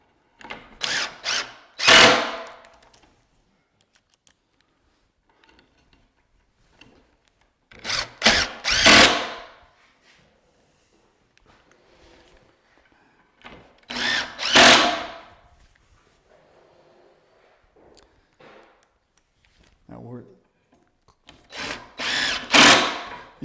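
Power drill driving screws into a wooden cabinet face frame, four separate short bursts of high whirring, each a couple of seconds long with quiet gaps between, close and loud.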